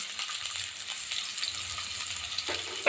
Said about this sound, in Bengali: কড়াতে পরিমাণ মতো তেল দিয়ে দেব তো বন্ধুরা কিছুটা পেঁয়াজের বেরেস্তা করে তুলে নেব